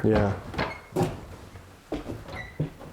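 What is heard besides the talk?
door closing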